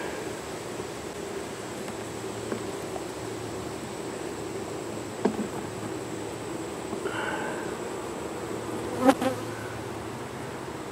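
Honeybees buzz steadily around an open hive box with a top box of nectar frames as winter approaches, a continuous moderate hum with a few brief knocks and handling sounds.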